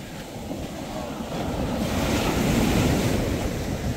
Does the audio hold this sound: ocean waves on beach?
yes